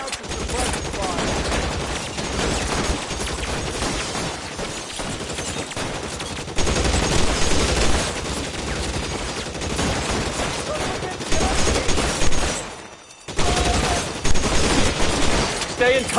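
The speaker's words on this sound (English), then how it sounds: "I'll lay down to suppress fire." Suppressing gunfire in the shootout game L.A. Noire: loud, dense bursts of rapid automatic and repeated shots almost throughout, with a brief lull, voices speaking under the fire.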